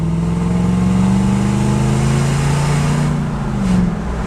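A Lexus GX470 fitted with SPELAB remote exhaust cutouts drives past with a deep, steady, muscle-car-like exhaust rumble. The note is loud and close and holds level before easing slightly as the vehicle goes by.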